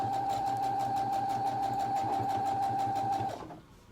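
A sewing machine runs at a steady pace as it stitches the opening of a fabric hair scrunchie closed, a close rapid whirring hum with a regular needle rhythm that keeps going for about three seconds and then winds down to silence.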